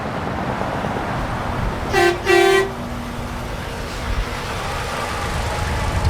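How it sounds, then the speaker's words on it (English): A convoy truck's horn honks twice in quick succession as trucks roll in, a short toot then a longer blast, over a steady rumble of traffic and engines. "Here comes the trucks."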